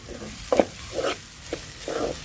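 Ginger garlic paste sizzles in a pan for a Telugu-style potato fry, with several short stirring scrapes and soft frying crackle, close and moderately loud, with no talking.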